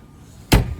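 A Citroen C1 car door swinging shut, a single solid thud up close that ends a quiet stretch and is followed by a brief low rattle.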